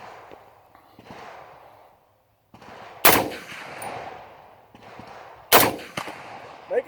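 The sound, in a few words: tank gunfire, from a video game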